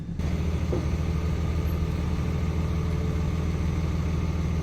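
A heavy tractor engine rumbles steadily at close range, a low, constant idle-like drone with no voices.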